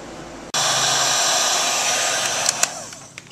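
Hot air gun shrinking heat shrink tubing while restoring a 1927 Atwater Kent Model 37 radio: the blower switches on abruptly and keeps a steady loud whooshing hiss, with a few faint clicks near the end.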